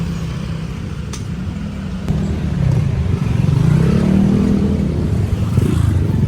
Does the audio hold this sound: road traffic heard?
yes